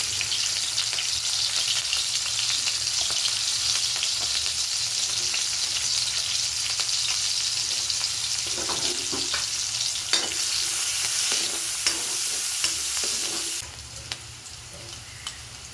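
Chopped onion and green chilli frying in fish oil, a steady loud sizzle with occasional scraping stirs, ending abruptly in a quieter hiss.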